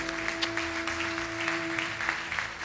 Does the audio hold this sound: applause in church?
yes